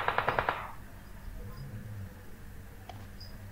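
Rapid burst of gunfire from a shotgun in a video game, a quick string of sharp cracks at the very start, then fading into quiet background hum with faint clicks.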